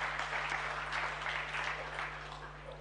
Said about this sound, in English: Let's applaud them, ladies and gentlemen.